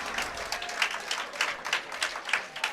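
A crowd at a Unified Bowling Class A championship claps and cheers in quick repeated bursts, moderately distant and rising and falling over a few seconds.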